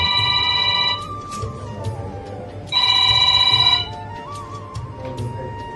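Telephone ringing indoors with two loud, tonal electronic ring bursts about two seconds apart, over a low background murmur.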